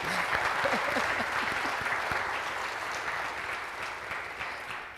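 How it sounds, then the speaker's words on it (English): Audience at a 2022 State of the City address claps in a sustained, fairly distant burst of applause that gradually tapers, with faint voices underneath. "let's clap."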